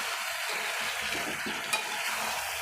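A pan of yogurt-marinated chicken curry being stirred after salt is added, with a soft scraping stir over a faint, steady sizzle, low and close.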